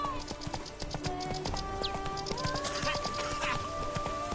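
Hooves of a horse named Roach galloping in the video game The Witcher 3: Blood and Wine, a brisk steady clip-clop close by with music and faint ambient tones behind it.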